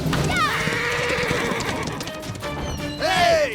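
Horses in an animated adventure gallop with rapid clip-clopping hooves, and loud, shrill whinnies ring out at the start and again near the end, with voices around them.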